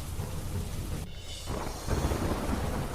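Heavy rain pours steadily in Sawai Madhopur, Rajasthan, a loud, continuous roar with a deep thunder rumble underneath.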